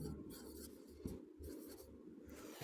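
Writing on a board makes steady scratchy strokes in close, repeated bursts with short pauses between them; no one speaks.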